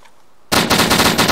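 Gunfire in the video game DayZ: after a near-silent moment, a loud rapid burst of automatic shots rattles off in a steady, evenly spaced rhythm.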